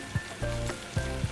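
Potatoes frying in oil with half-fried onions, a soft, close sizzle with a few brief clinks or stirring knocks, short and fairly quiet.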